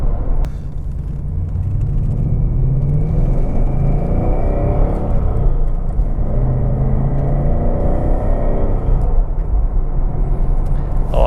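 Ford Mustang GT V8 engine and exhaust revving loudly, a deep continuous rumble that swells and eases over several seconds, close up with no talking.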